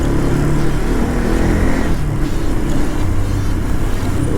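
Bajaj Pulsar NS200 motorcycle being ridden, a loud, steady engine drone with wind rush heard from on the bike, continuous throughout.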